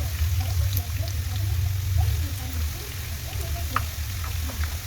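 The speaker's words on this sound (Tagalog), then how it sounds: "brown muna natin yung bawang" Garlic browning in oil in a pan while beef steak with broccoli is being cooked, giving a continuous close sizzle with small crackles and a few pops over a low hum.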